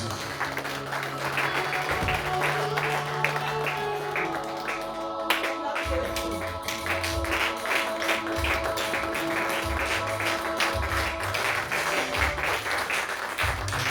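A church congregation acclaims and applauds Jesus with steady, sustained clapping and cheering, layered over loud music and voices throughout.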